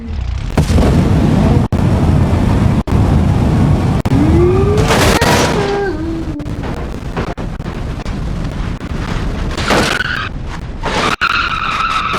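A spawned car in the BeamNG.drive driving game skids loudly, its tyres screeching in a rising then falling squeal over a constant engine roar, with sharp clicks and a second burst of screeching near the end.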